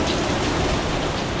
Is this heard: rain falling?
yes